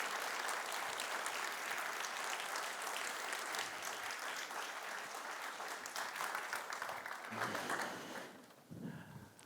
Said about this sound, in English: please give them a round of applause and welcome